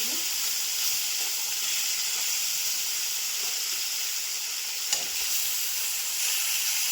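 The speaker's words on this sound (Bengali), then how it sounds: "তেল গরম হয়ে গেছে এখন দিয়ে দেবো মাছ এইভাবে আমি পাক পাক করে দিয়ে" Fish frying in hot oil in a pan, a steady loud sizzle throughout with one brief clatter near the end.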